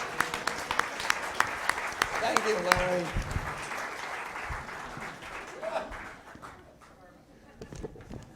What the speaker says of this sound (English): And applause for these guys as we give them a...